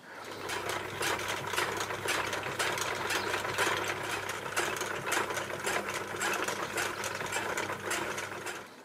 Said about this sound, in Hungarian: egy picit gyorsabb ezekkel a gyorsvarrógépekkel, ami varrás.